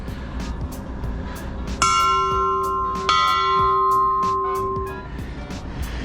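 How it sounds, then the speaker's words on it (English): A bell at a large stadium is struck twice, a few seconds apart, and each clang rings out in long, bright tones. A continuous hiss of background noise runs underneath. "The bell has been sounded."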